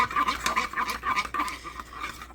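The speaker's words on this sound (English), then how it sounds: "the better you stir it, the more consistent it will be" Spoon stirring cheese sauce through Annie's organic boxed macaroni shells in a pot, a close run of rhythmic squelching, scraping strokes repeating about every half second, with no voices.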